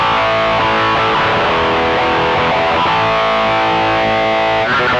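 Electric guitar through a BOSS ST-2 Power Stack pedal set to maximum gain in Ultra mode gives a loud, thick, heavily saturated distorted tone with sustained ringing chords and dense harmonics, played alone.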